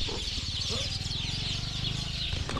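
Birds call outdoors in Ethiopia's Rift Valley, with continuous chattering and clucking calls over a dense, steady wash of background noise.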